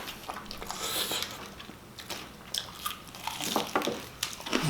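Crunchy fried chicken, Kentucky Fried Chicken or Chickenjoy, is bitten and chewed up close, giving a series of sharp crisp crunches and wet chewing sounds in short irregular bursts.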